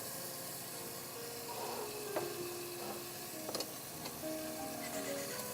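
Scallops frying in a covered pan with fresh mozzarella to follow: a steady, faint hiss of sizzling oil with a few light clicks of the lid or utensil, heard alone without voices.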